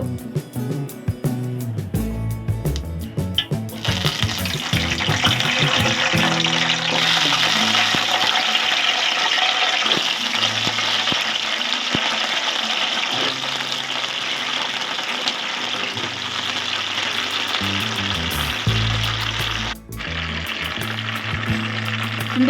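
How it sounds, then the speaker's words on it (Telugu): Cut eggplant pieces dropped into hot oil for a stuffed brinjal curry, bursting into a loud, steady sizzle that starts after a few seconds and holds close and continuous, with a brief dip near the end. "నూనె వేడెక్కిందండి ఇప్పుడు ముందుగా కోసి పెట్టుకున్న వంకాయల్ని నూనెలో వేసేద్దాము"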